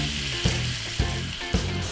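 Prawns sizzle loudly in a hot pan as soy sauce goes in, a constant close frying hiss with a few soft stirring knocks and no talk.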